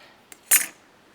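A stainless steel pocket knife blade with titanium accents springs open from a push button release: a tiny click, then one sharp bright metallic snap that rings briefly, close up and alone.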